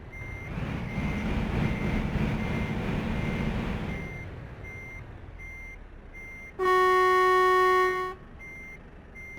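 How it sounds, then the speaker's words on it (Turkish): Reversing beeps and the low engine rumble of a Volvo FH Series 6 truck with a 780-horsepower engine fade out. Then the truck's original horn blares once for about a second and a half, loud and close. "bu havalı konu değil, tırın kendi orijinal konusu arkadaşlar."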